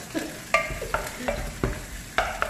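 Onions frying in a pan for adobo sitaw are stirred with repeated sharp scraping strokes over a steady sizzle, close and fairly loud, with no talk.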